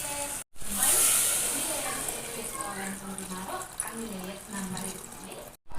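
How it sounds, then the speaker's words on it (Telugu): Water is poured into a pot of spiced mutton bones for soup, a steady close hiss and splash that runs for several seconds while a voice talks over it. "ఇప్పుడు ఇందులో వాటర్ పోసుకుందాము"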